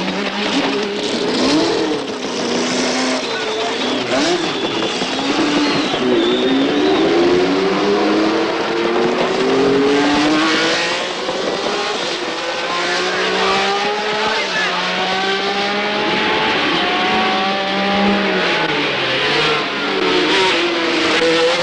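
Formula One race cars at the 1979 Dutch Grand Prix at Zandvoort scream past with high-pitched engine wails rising and falling as they accelerate, loud and continuous, with a voice talking over them.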